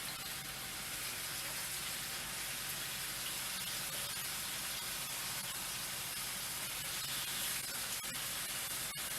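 Marinated pork tenderloin sears in a hot pan, giving a continuous close, even hiss and crackle that holds steady throughout without any talking.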